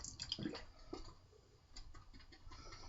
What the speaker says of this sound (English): I'm going to do one more little drizzle of water there